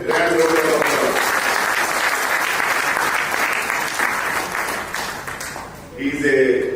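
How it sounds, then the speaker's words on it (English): Sustained applause from a conference audience at a medical association awards session, loud and continuous for several seconds before tapering, with a voice speaking briefly at the start and again at the end. "Give me a grand round of applause."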